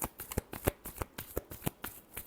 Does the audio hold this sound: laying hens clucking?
no